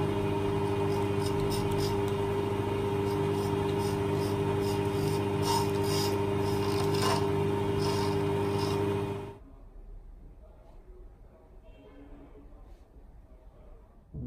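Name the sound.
jewelry lathe machine cutting a radius on a ring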